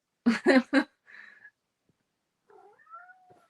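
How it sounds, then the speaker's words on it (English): Cats meowing indoors during a home livestream: three quick, loud meows in a row, then softer drawn-out mewing and a thin trailing cry in an otherwise quiet room. "I swear, these cats drive me bananas."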